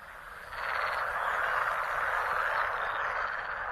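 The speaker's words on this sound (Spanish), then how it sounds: "El croar de las ranas macho resuena por toda la zona." Male frogs croak in a dense, continuous chorus in the Biebrza wetlands near an alder forest; the chorus swells after the first half-second and stays loud and steady throughout.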